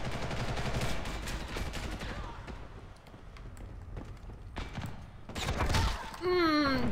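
Rapid bursts of gunfire from a Ghost in the Shell multiplayer shooter crackle in dense clusters, fading midway before a loud final volley, mixed with other busy game effects.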